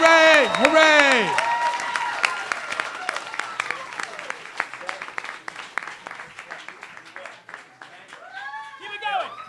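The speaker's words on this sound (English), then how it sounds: "give him a big round of applause" Live show audience applauds John DiMaggio with scattered cheers and whoops, clapping thinning into sparse claps while voices shout and chatter over it, rising again at the end.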